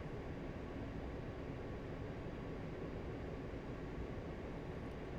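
A-10C jet flies in a flight simulator game, a steady, dense, low engine roar with no change over several seconds, fairly faint.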